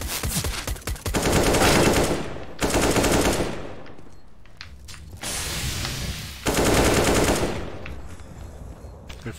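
Loud, rapid automatic gunfire in several long bursts separated by short pauses, harsh and close, with faint background noise between volleys.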